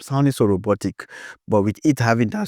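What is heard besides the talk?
No everyday noises stand out.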